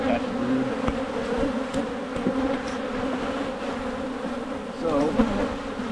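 Honey bees buzz around an open hive during an early spring colony inspection, a dense, continuous drone of many insects close by, with no talking.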